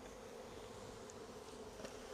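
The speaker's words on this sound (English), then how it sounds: "Smoke's useful for clearing bees out of the way" Honey bees buzz around an open hive in a soft, steady drone close by, with occasional louder individual bees passing near, and no voices.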